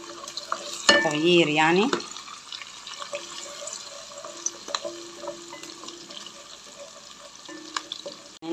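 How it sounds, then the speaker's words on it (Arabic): Onion and garlic frying in oil in a pan, a loud stirring burst at first, then a soft steady sizzle with faint clinks, a few words spoken briefly over it. "حطيت زيت ونزلت عليها بالبصلايه، والمره دي قلت اغير واحط تومه"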